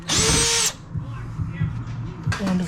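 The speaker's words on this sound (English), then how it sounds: "Go find my drill bit." A power drill bores a mounting hole for a RokBlokz XL fender flare on a Can-Am Maverick X3, sounding in two loud, close, whirring bursts, a longer one at the start and a short one at the end, with quieter background noise between them.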